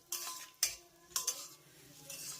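A spoon clinks and scrapes against a pan in a few quick strokes, with a faint sizzle of raisins frying underneath.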